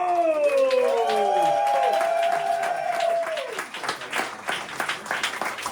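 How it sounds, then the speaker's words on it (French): A game-show studio audience breaks into steady applause with a thick wash of clapping, opened by a rising then falling whistle-like tone that fades as the clapping continues loud and even. "faites un tonnerre d'applaudissements"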